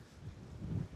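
Wind gusting at a reservoir picnic spot on the waterfront, a low buffeting rumble across the microphone, brief and fairly faint with no voices.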